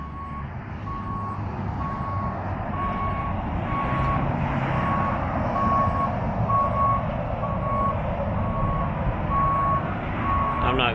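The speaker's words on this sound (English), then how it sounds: "I got a beeping in the background" Truck reversing beeps repeat steadily near a highway, a regular rhythm of tones over loud traffic rumble, with someone speaking.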